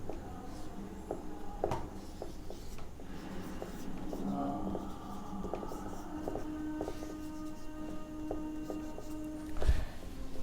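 Pen or chalk writing a definition during a physics lesson on units and measurement: soft, scratchy strokes and taps come in short irregular bursts, close and faint, over a steady background hum.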